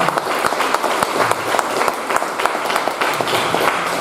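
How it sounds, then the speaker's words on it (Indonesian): Sustained audience applause fills a formal government socialization event on intellectual property rights in Banten, with dense, steady clapping from a sizable indoor crowd. "Minta tepuk tangan buat"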